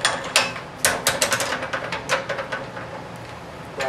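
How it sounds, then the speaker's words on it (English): A drill bores into a small wooden hollow form on a lathe, giving a series of sharp, irregular clicks and grinding bursts close by, with no talking. "by drilling a hole"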